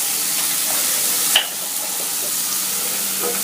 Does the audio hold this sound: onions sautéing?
yes